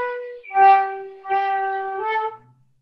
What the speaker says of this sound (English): the tendency we have when we play the flute is to blow more on each single note and drop between the notes